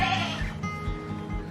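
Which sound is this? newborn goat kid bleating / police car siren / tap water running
newborn goat kid bleating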